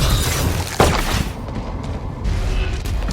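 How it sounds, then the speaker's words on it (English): A flashbang detonates in Valorant with a sharp, loud bang early on, followed by a ringing, muffled aftermath as the surrounding noise drops away. "Flashbang."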